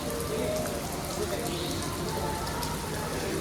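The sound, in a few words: rain at Nganjuk train station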